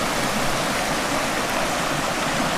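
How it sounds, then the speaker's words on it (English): A big waterfall in Scotland roars as a steady, dense wash of water noise that stays even and loud throughout. "I had to show you this waterfall."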